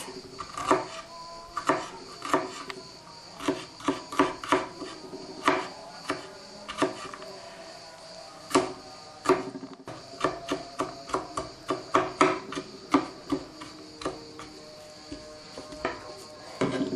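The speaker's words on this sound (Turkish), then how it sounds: "Bunu elimizden geldiğince ince kıyacağız." A knife chops garlic finely on a board, giving a quick, irregular run of sharp close taps that cluster into rapid bursts with short pauses between them, with no voice over it.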